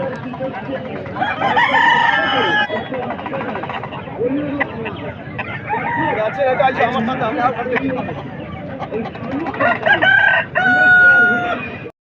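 Chickens cluck and a rooster crows several times, loud and close, amid a busy chatter of voices at a poultry market.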